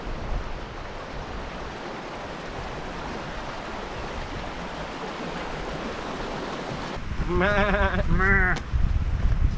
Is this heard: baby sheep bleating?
yes